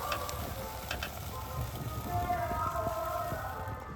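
Dry fruits frying in a pan over low to medium heat, a steady crackling sizzle with scattered pops and occasional stirring clinks, close and continuous throughout.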